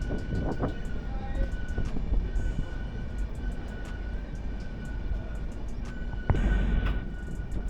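The Black Diamond Express, an LHB train, rumbles into Sitarampur Junction with a steady rolling roar, rhythmic wheel clicks over rail joints and a high sustained whine, plus a sharper clank near the end.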